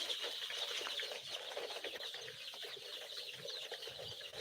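Young chickens in a brooder, a steady dense chorus of chirps and clucks close by with occasional wing flutters, continuous without pauses and no talking.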